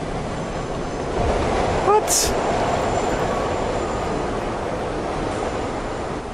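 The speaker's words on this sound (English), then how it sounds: "5 seconds between trains." Trains rush through a Paris metro station in a video game, a loud, continuous rumbling roar that surges partway through. One short spoken word cuts in briefly.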